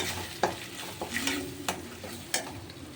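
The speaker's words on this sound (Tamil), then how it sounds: "இந்த விழுதை சேர்த்து அதெல்லாம் மிக்ஸ் பண்ணிக்கலாம்" Close-up scraping and clinking of a spoon stirring thick spice paste into a pot of mor kuzhambu, with a soft sizzle underneath and occasional sharper knocks.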